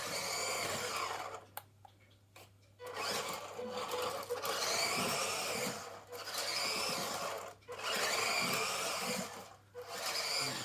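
WPL D64 RC truck electric motor running at the second throttle rate indoors, a close, steady high-pitched whine that drops out briefly a few times between bursts.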